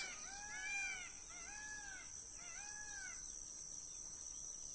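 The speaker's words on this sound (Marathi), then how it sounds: "एकदम खूप छान सकाळपारी सुंदर असे मोरांचे आवाज" Three wailing peacock calls ring out in the morning on farmland in a slow, even series at a moderate distance, over a constant high insect drone.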